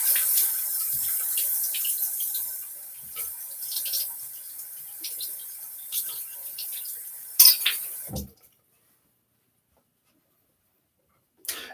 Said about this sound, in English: Rinse out my little quarter teaspoon.